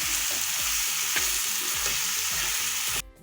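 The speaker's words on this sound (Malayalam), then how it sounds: "അപ്പം നമ്മുടെ ഉള്ളി വഴന്നു" Onions sauté in a pan for a Kerala-style prawn roast gravy, giving a steady bright sizzle with a repeating low rhythmic scrape of stirring, close by, before the sound cuts off abruptly near the end.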